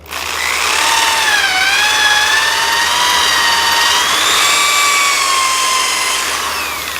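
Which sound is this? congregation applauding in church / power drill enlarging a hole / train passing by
power drill enlarging a hole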